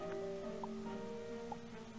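Sideways rain in Starbound patters steadily as a soft, faint wash of drops, with tonal game music underneath.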